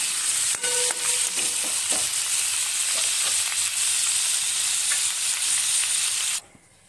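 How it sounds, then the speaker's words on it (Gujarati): Cashews and spices sautéing in ghee for shahi paneer, a bright steady sizzle with occasional stirring taps, close and loud until it drops away abruptly near the end. "તો આ બધી વસ્તુને થોડીક વાર આપણે ઘીમાં સાતળવા દઈશું."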